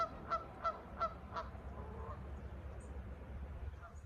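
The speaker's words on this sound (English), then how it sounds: "Those geese over there must think I'm pretty funny." Geese honk several times in a quick rhythmic series at a distance, followed by low background rumble.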